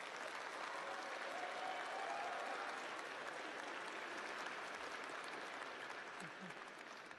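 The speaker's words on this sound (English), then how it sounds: "So graduates, give them a round of applause." A commencement audience applauds graduates in a steady wash of clapping from many hands, fairly even for several seconds before tapering slightly near the end, with faint voices underneath.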